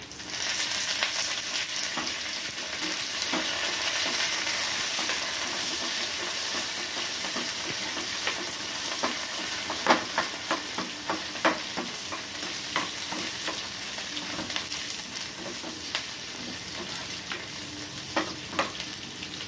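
Cumin seeds and curry leaves fry in hot oil, giving a steady close sizzle and hiss with occasional sharp pops and crackles throughout, while something stirs the pan.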